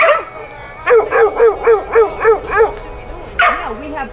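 Emaciated pit bulls chained in a backyard bark and yelp in a quick rhythmic series of about seven loud close barks, then a brief pause and a whining, howling bark.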